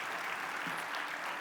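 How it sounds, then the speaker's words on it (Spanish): A church congregation applauds a preacher as he is welcomed forward, giving a steady, dense burst of clapping from a crowd that fills the whole moment at moderate loudness. "Denle un aplauso de bienvenida"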